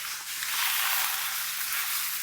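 Garlic sizzles with rendering cured meat in a pan, a steady, bright frying hiss that runs continuously and close with no talk.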